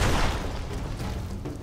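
A loud explosion in The Witcher 2 as a monster in the Kayran lair is blown up, a broad rumbling blast that decays into a sustained roar of debris and noise.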